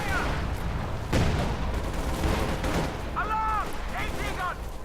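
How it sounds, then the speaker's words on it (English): A Company of Heroes 2 battle brings scattered gunfire and heavy booms from a ZIS anti-tank gun, sharp cracks and thuds over a rumbling background, with whistling shell sounds near the end. "Gunshot misses."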